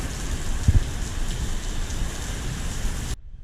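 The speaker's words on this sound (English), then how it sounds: "that wind is really picking up" Heavy rain and gusting wind roar in a severe thunderstorm, a dense, steady wash of noise that cuts off abruptly near the end.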